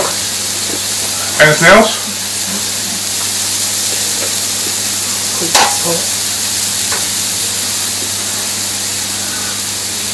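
Meat or vegetables frying in oil on a hot plancha while cooking carne asada and corn ribs, a steady broadband sizzle running throughout with a couple of brief clatters and a short spoken question over it.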